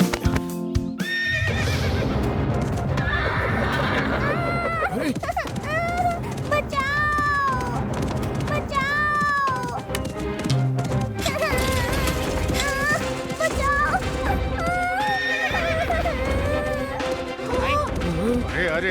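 A horse neighs repeatedly and hoof clip-clops race off as it gallops away with a young girl on its back, mixed with loud crashes, dramatic music and excited voices in a Hindi TV drama.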